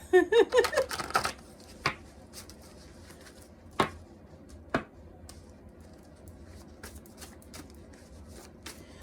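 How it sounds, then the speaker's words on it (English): A quick riffle of playing cards being shuffled at the start, followed by a few sharp taps and light handling noises over a quiet room background. "Sometimes I just can't shuffle for nothing."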